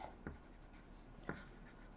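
Quiet scratching of a pen on paper as a sewing pattern piece is labeled, a few short strokes and taps close by in a still room, with no talking.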